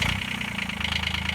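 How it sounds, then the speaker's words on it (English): A Kubota turbo diesel engine fitted in a Saturn car runs steadily close by, a loud rhythmic idle chug with a hissing, whirring upper layer and no voices. "let's start the engine and see how loud the car is"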